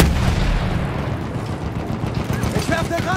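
In Battlefield 1 multiplayer, a tank fires repeatedly, with booming blasts and gunfire crackling close and loud while a player talks over the battle.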